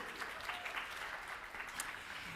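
Audience applause at a New School panel event on economic security in New York, a soft, distant patter of many hands clapping steadily for a couple of seconds.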